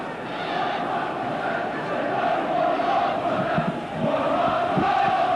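A football crowd at Sunderland versus Gillingham in 1987 roars and chants steadily, a dense, loud mass of voices that swells near the end, with a commentator faintly audible.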